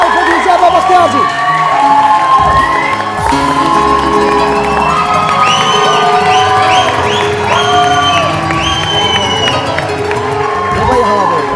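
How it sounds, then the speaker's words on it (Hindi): The studio audience of a Pakistani TV morning show cheers and claps loudly and steadily over bright music, with talk mixed in. "Please put your hands together for the wonderful Zeba Bakhtiyar ji."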